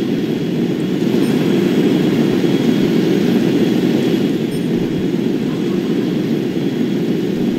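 Aircraft engines drone steadily through a War Thunder air battle featuring the Me 262 jet fighter, a loud unbroken roar with no voices over it.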